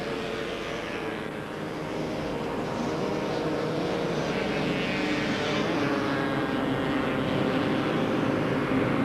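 Motocross bike engine held at heavy throttle on the start straight of the 1992 Southport beach race, a loud continuous droning roar that swells slightly as it passes, with no speech over it.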